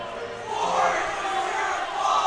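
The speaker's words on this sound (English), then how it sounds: "Just listen to this crowd." A crowd roars and cheers at a school ice hockey game between St. Andrew's College and Brunswick School, a loud sustained swell of voices that rises and falls in waves, with commentators talking faintly underneath.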